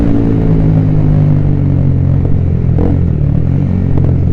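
A Honda CBR150R motorcycle fitted with an RX8 aftermarket exhaust runs close up, giving a steady, loud, deep engine drone with a slight rise in pitch partway through.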